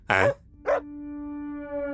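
A dog barks twice, short loud woofs close by, then a sustained tone rings on afterward in a Tamil Tenali Raman serial scene.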